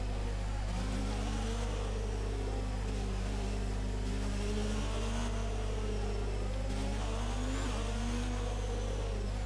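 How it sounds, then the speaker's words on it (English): A Ferrari Formula 1 car in the F1 2019 racing game at the French Grand Prix drones quietly, its engine note swelling and dipping in pitch over a low, constant hum. "in this camera view, the car sounds horrible"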